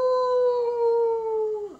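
A wolf howl played as a phone alarm sound: a single long, steady tonal howl that holds its pitch before dropping off sharply at the end, clear and alone.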